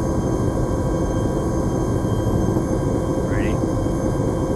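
Helicopter engine in the Zulu-Alpha video game, a steady, loud, continuous drone that holds without a break for the whole stretch.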